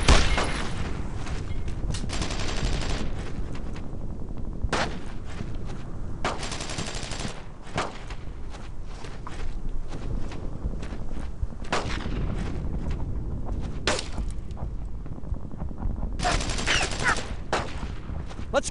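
Sustained WWII-style gunfire from the video game Brothers in Arms: Road to Hill 30, with rapid bursts of rifle and machine-gun shots and heavy booming volleys running steadily throughout, loud and dense, with no clear speech.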